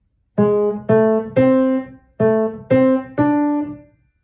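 Solo piano plays two short measures of the Super Mario Bros. theme, a bouncy melody of six distinct notes in two groups of three, clear and close.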